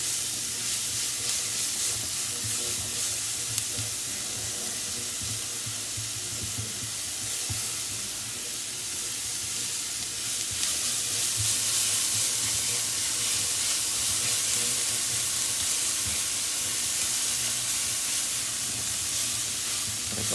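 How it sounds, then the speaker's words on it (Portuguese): Sliced leek rounds sautéing in a frying pan, a steady close sizzle and hiss with faint stirring scrapes throughout, no talking. "E vou colocar para refogar junto."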